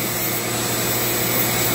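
Dremel rotary tool carving a wooden staff gives a steady, loud, continuous high-pitched whir with a grinding, rubbing texture, close up and without talk.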